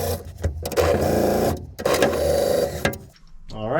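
Bolts are run in with a power driver while a diesel heater is installed in a tool shed, giving loud whirring bursts with short pauses between them.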